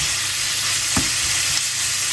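Onion gently sweating in a pan over low heat, a continuous soft broadband sizzle with a couple of faint utensil touches, no voices.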